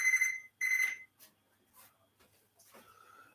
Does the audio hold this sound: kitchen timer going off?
yes